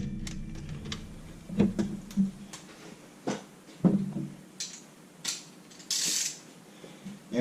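A ratchet wrench tightens a bolt on a low-mount alternator bracket during an LS engine swap, giving several short, separate bursts of clicking and mechanical rattling with quiet pauses between them.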